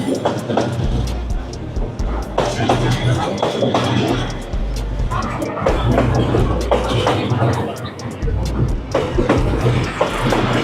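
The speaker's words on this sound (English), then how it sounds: "It's a long train." A long train rumbles past very close in Hanoi, a steady low roar with rhythmic clatter throughout, while people chatter excitedly in the background.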